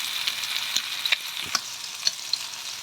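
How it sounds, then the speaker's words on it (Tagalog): Garlic sautéing in a hot pan for a mung bean soup, a steady close sizzle broken by several sharp scrapes and taps of a spatula stirring, with no talk. "Tapos ilagay, gisa natin yung bawang."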